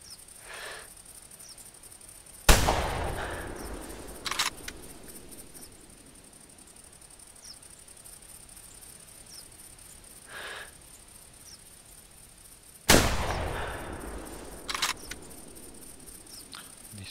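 .223 bolt-action rifle with a wooden stock fires two loud, sharp shots about ten seconds apart on a video-game shooting range, each with a ringing decaying tail and followed by quick mechanical bolt clicks.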